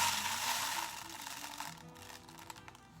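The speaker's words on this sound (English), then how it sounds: "Put a big old handful of rice" A handful of rice poured into a cardboard toothpaste box, giving a dense hissing patter of grains that is loudest at first and then thins into scattered rattles, close up.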